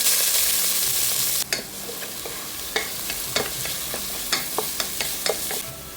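Chopped onion and curry leaves hit coconut oil with mustard seeds, giving a loud hiss that eases after a second and a half into a gentler sizzle broken by repeated stirring scrapes.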